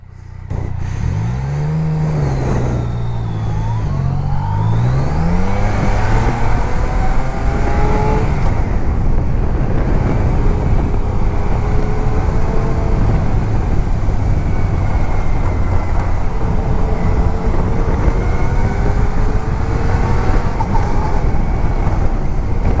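A Yamaha Niken three-wheeled motorcycle rides on the road, its engine revving up through the gears and then holding a steady, loud drone with wind rush throughout.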